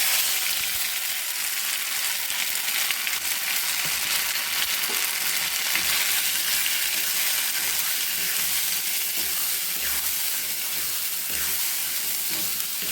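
Kachori filling of green peas stir-fried in a small amount of oil in a wok, a steady close sizzle with soft scraping stirs running throughout, no voices.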